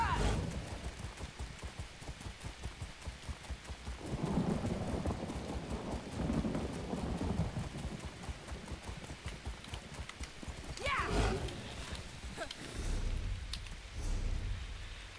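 Video game horse hooves in Elder Scrolls Online trot with steady clip-clops at an even pace over a rainy, rumbling backdrop, with occasional muffled voice-like swells.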